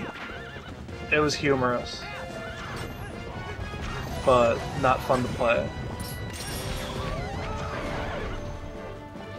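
A horse in Zelda Twilight Princess whinnies in two loud, shaky bursts amid galloping hoofbeats and clashing game sounds, while a person talks over the action.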